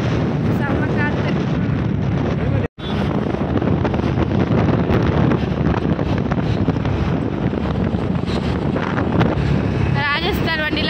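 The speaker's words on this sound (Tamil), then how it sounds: "செம்ம காற்று." Strong wind buffeting the microphone in a loud, continuous roar, with a voice speaking faintly underneath.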